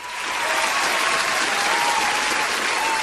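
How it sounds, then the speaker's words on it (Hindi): Recorded applause effect played on an FM radio show swells in quickly and holds as a dense, even wash of clapping for about three seconds, with no voice over it. "दिल चाह रहा है बार बार की बजाऊं मैं आप लोगों के लिए तालियां"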